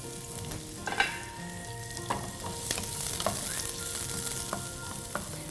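Sliced onions fry in hot oil in a pan with a steady crackling sizzle, broken by several sharp stirring clinks and scrapes at irregular moments, close and alone with no voices.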